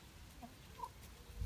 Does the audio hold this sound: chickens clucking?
yes